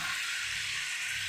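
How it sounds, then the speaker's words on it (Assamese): Chicken meat frying in a pan with ground spices for an Assamese coriander-leaf chicken dish, a steady close hiss of sizzling oil with no talk. "মাংসখিনি এতিয়া মই ভালদৰে ফ্ৰাই কৰিম।"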